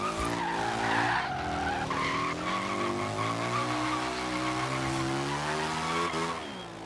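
A car in Forza Horizon 3 drifts with a long, loud tire skid over a sustained engine drone, the squeal holding steady for several seconds before easing at the end.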